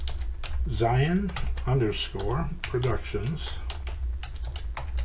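Keys clatter on a computer keyboard in short bursts of clicks, close and clear, with someone speaking over much of the typing.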